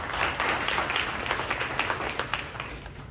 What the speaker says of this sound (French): Je voudrais que vous lui assuriez un petit applaudissement.